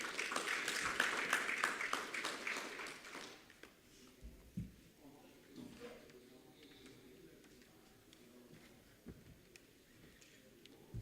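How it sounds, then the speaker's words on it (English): An indoor audience at a trade union conference on African debt applauds, a dense burst of clapping for about three seconds that fades into quiet room noise with scattered faint sounds. "let's give Dr. Hogg another round of applause"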